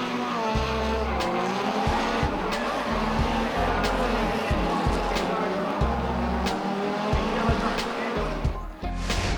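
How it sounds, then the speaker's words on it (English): Drift cars, an SR20-powered Nissan S13 and an RB25 C33 Laurel, battle at a D1NZ round in Tauranga. Loud tire squeal and wailing engines sound throughout, with the engine note rising and falling as the throttle is blipped. "Calvin Clark answered back with a committed chase in the RB25 C33 Laurel."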